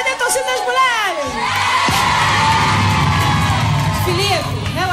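Girls in a children's TV show audience cheering and shrieking loudly in a sustained burst, high-pitched screams rising over crowd noise, close and energetic.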